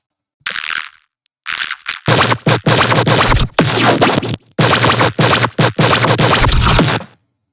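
A loud electronic bass drop plays without its group processing, giving harsh, gritty bursts in choppy stabs. Short gaps of silence break up the hits.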